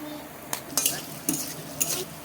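Onion and chopped potato sizzle and fry in a pan, with several distinct stirring scrapes of a utensil against the metal over a steady, close-up sizzle.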